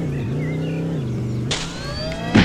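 A car engine in a video game hums at a steady low drone, then surges into a revving acceleration about halfway through, the pitch climbing as it speeds up, with a short burst of noise at the end.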